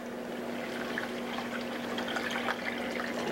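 Water pours into a pot for Irish stew with beef base, a continuous splashing trickle heard close up under a faint steady hum, with no talking.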